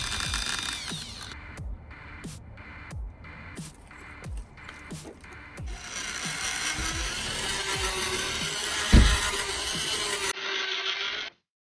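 An off-center rotating polishing drill whirs steadily with rhythmic mechanical clicks at first, then a continuous buzzing drone up close before it stops abruptly, during headlight restoration.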